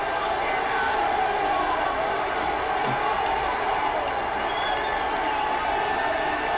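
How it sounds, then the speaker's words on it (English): A football stadium crowd at Newcastle United vs. Arsenal in 2011 roars loudly and continuously after a volleyed goal, a dense, sustained wall of cheering with a voice faintly audible beneath it. "The crowd goes wild."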